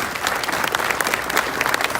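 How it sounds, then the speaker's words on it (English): Audience at a South Houston High School graduation ceremony applauds steadily, a dense wash of many hands clapping at close range with no break across the whole stretch. "how about a round of applause for all of our educators and students here tonight"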